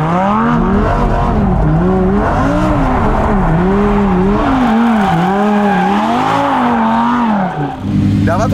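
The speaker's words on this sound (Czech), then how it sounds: "No a tak dneska spálíme gumy v Lambo" Lamborghini Huracan Evo drifting and burning its tires: a loud, continuous engine roar rising and falling in pitch with sustained tire squeal, close and dominant, easing briefly near the end.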